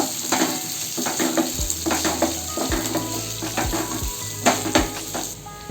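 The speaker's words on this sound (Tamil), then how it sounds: "இஞ்சி சேர்த்துக்கிறேன் அஞ்சு கல் பூண்டும் சேர்த்துக்கிறேன் சேர்த்துட்டு எல்லாத்தையும் ஒரு நிமிஷம் போல் நல்லா வதக்கி விடுங்க" Ginger and garlic sautéing in a pan for coriander chutney, a steady sizzle with repeated stirring scrapes and light clinks of the utensil against the pan, close and alone with no talk.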